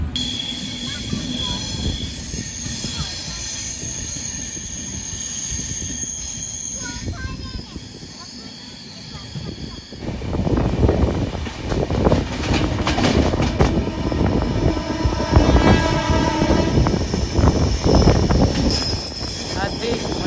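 Kakinada Town - Lingampalli Special Express train moving off, a steady loud rumble of carriages and wheels on rail that swells and grows rougher partway through, with a constant high whine above.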